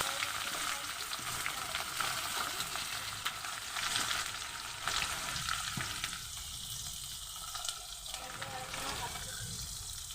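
Chopped onions tossed into hot oil with garlic and nigella seeds, giving a loud, steady sizzle and crackle that runs the whole time, with some stirring and a quieter stretch near the end.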